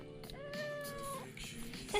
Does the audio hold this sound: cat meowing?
yes